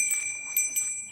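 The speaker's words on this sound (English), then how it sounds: "Let me ring my bell, too." A small handheld bell rings several times in quick succession, bright sustained tones shimmering close by and fairly loud, with no talking over it.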